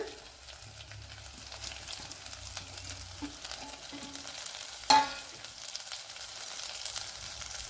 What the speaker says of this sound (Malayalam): ഇതിലേക്ക് ചെറിയൊരു സവാള ചേർത്ത് കൊടുക്കുക